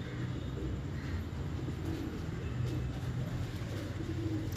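Teddy pigeons cooing softly inside a loft, low murmuring coos layered over a steady background rumble, with no voices.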